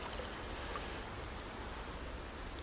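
Steady, soft rush of a river current flowing past a wading angler fly fishing for grayling, a continuous even wash of water with no voices.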